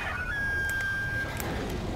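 A chicken clucks briefly in the video game Evolve over a steady low background hum, with a thin sustained whistle-like tone in the first half.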